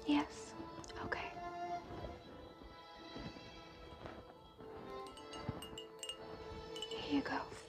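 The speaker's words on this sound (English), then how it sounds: "Actually, I already have a glass ready for you." A drinking glass of water is handled, giving soft, close clinks and taps over quiet whispered talk.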